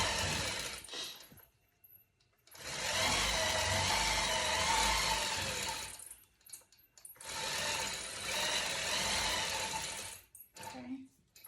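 A longarm quilting machine stitches quilt binding in two long, steady bursts of fast mechanical whirring and needle chatter, close and loud, separated by short pauses.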